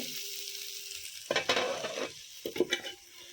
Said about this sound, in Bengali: একটু পরে আরও একটু ভেজে তারপরে নামিয়ে নেব